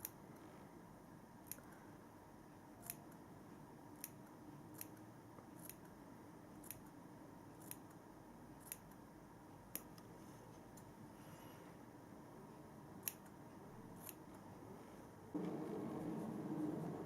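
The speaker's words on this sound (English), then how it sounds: "then you can just go back over and snip any of those little bits" Scissors snip hair while a fringe is trimmed at home, a steady series of crisp, quiet clicks roughly every second or so, close and alone over a faint room hum.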